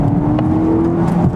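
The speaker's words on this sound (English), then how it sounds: "It's a good sounding 4-cylinder engine" The four-cylinder engine of a 2018 Volvo S90 revs hard and steady, loud and close, with a buzzy droning hum and no voices.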